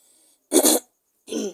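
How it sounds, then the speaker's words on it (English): Two short, sharp coughs close to the microphone, separated by a brief pause, with silence around them. "Sorry, I'm having cough."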